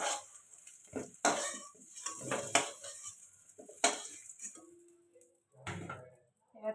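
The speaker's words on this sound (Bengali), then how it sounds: "আলুটা ভাজা হয়ে গেছে," A metal spatula scrapes and clanks against a pan while fried potatoes are lifted out, giving a few sharp knocks between soft rustles and a faint sizzle in a quiet kitchen.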